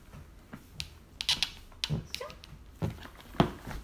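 A cartoon dog in the Caillou series gives a scattered run of short yips, whimpers and soft barks, fairly faint, with light clicking noises between them.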